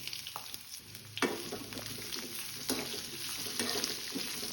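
Sliced onions fry and sizzle in a pan for curry, a steady soft crackle with occasional stirring scrapes, fairly quiet and without talk.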